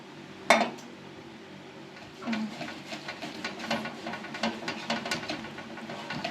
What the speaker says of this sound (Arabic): هبتدي دلوقتي ادهن الصينيه بالسمنه